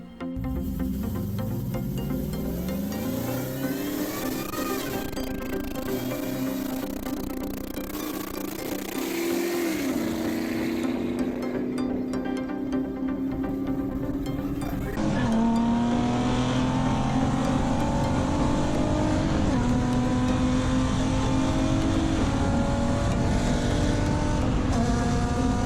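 Toyota Camry sedans at full throttle, engines revving and rising steadily in pitch through the gears, loud and continuous, with a sharper, brighter change partway through and no talking.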